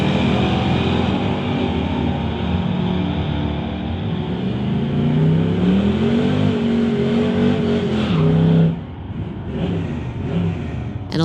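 A fastback Mustang launches in a drag race, its engine roaring loud and close with rising revs through the gears, then cutting off sharply near the end.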